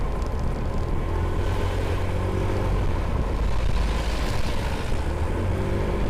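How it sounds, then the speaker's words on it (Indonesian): A 2020 Honda ADV scooter engine holds high RPM on the move, giving a steady, strained whine over constant wind rush, with no talking. "Mesin ngegerung itu menurut gua menandakan RPM-nya itu main di putaran tinggi guys"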